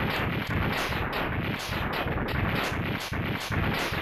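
Explosions in the video game Mega Man X2 crash in a dense, loud, continuous barrage of rapid booms with a steady rhythm of bursts, sounding alone without any talk.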